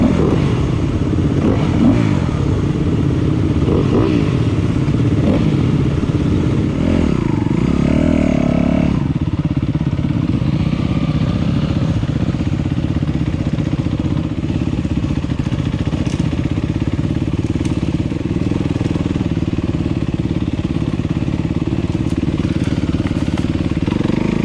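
An enduro motorcycle pulls away and rides on, its engine revving up and then holding a steady, loud drone with some clatter, close by for the whole stretch.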